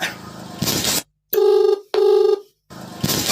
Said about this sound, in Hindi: आही रे दादा ई केकर फोन आ गई।